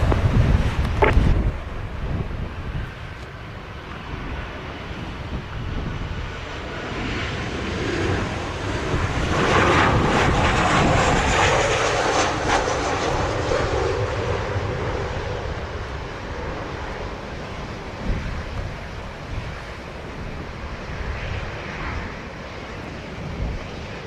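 An airplane takes off at Montego Bay airport in Jamaica, its engine roar swelling to a broad rumble midway and then fading into the distance against gusty wind noise.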